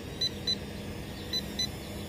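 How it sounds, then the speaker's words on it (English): Low-voltage warning from a Snaptain H823H Plus drone transmitter outdoors: two pairs of short, high beeps, fairly faint over a steady background hum. "when the drone reaches low voltage, then this transmitter is going to start beeping, and it started right on cue"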